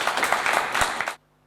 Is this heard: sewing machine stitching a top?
no